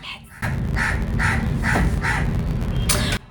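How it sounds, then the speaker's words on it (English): A crow caws loudly and close by, five harsh evenly spaced calls in a row over a steady outdoor background, with no talking. "oh that's Crow. He's like my emotional support bird"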